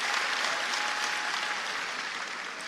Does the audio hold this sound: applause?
yes